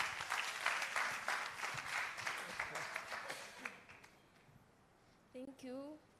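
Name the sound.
audience applause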